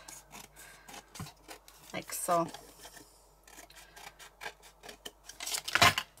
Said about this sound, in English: just going to get my scissors and we're going to trim right the way around